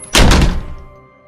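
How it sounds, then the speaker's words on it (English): A classroom door slams shut with a single loud, close, heavy thud, and the boom quickly dies away into quiet. "the door slams behind you."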